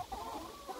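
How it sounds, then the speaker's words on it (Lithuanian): Chickens on a farm give soft, nervous clucks, a short close burst of low murmuring calls with no talking. "Vištos baisiai nerimauja, nervuojasi, kad ta pasiėmė, o jom nėra."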